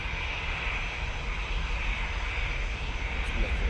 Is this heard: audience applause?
no